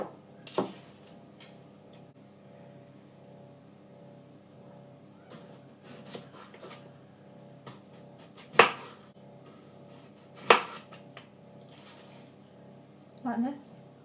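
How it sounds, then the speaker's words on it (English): A big knife slicing new potatoes, skin on, into discs on a board: a few sparse, sharp chopping clicks spaced irregularly, fairly quiet against a soft background hum. "So, 3 potatoes, slice them into discs"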